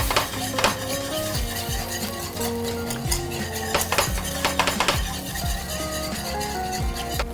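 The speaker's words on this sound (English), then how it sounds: "I'm gonna whisk all of that together." Dijon mustard sauce being whisked in a bowl, rapid metallic clinks and scraping of a whisk against the sides in an uneven rhythm, close and moderately loud, with no speech.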